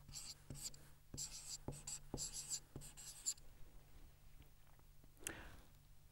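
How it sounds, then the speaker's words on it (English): Pen writing down notes for a maths lesson on sketching functions: repeated scratchy strokes and taps across the page, close and fairly quiet, pausing near the end before one brief rustle. "So let's write that down."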